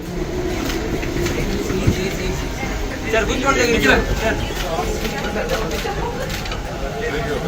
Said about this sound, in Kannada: ರೇಷ್ಮೆ ಸಂಸ್ಥೆಯವರೆಗೆ ಮೆಟ್ರೋದಲ್ಲಿಯೇ ತೆರಳಿದ್ರು.